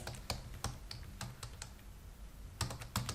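A computer keyboard is typed on with scattered individual key presses, including Enter and Tab, as sharp close clicks in an irregular rhythm, spaced apart with short pauses and a quick cluster near the end.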